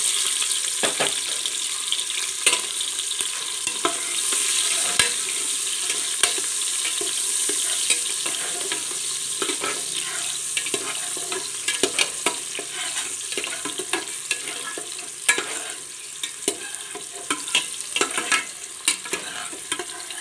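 Carrots fry in hot oil for a tuna fish biryani, giving a continuous crackling sizzle with frequent clicks and scrapes of a spoon stirring the pan.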